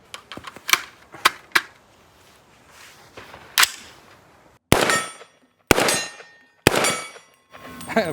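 Distant gunshots from a B&T APC300 carbine in .300 Blackout, followed by bright metallic clangs of bullets striking a steel gong, several separate impacts spaced apart with ringing decay.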